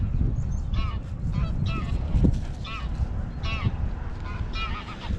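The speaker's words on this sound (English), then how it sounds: "We've got 2 wild geese." Two wild geese honk repeatedly in short nasal calls, trading cries over a loud rumbling background of engine or wind noise.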